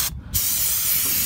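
Brake cleaner is sprayed onto a new brake rotor on a 2008 Honda Accord, a loud close aerosol hiss that starts after a brief pause and holds steady to the end.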